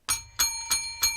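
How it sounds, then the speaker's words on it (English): A lucky bell rings four times in an even rhythm, each strike clear and close with a bright ringing tone that lingers briefly between hits. "And we have our lucky bell there"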